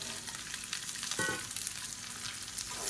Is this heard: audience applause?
no